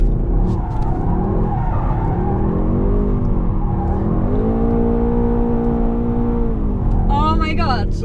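A Mercedes-AMG GT63S engine drones and rises in pitch as it accelerates, with tires squealing briefly near the end while people talk inside the car.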